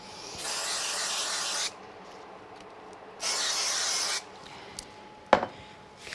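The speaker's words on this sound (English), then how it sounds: "I'm going to use some spray glue on it" Spray glue hisses from an aerosol can onto a paper card background in two long, steady bursts, followed by a sharp click and a few light taps in a quiet room.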